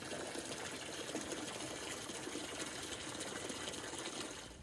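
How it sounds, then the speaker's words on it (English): Water pours steadily into a horse water trough in central Alabama, a continuous rushing hiss with no breaks, moderately loud and close, easing slightly at the end. "I want to top off the horse water"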